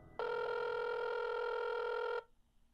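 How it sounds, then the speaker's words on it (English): A single electronic telephone ring sounds for about two seconds, steady and tonal, then stops, leaving quiet room noise. "The phone kept ringing."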